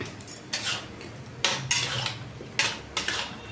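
A spoon scrapes and clinks against a pot while jaggery is stirred into cooked wheat rava, giving several loud, close metallic scraping strokes in uneven bursts with no talking.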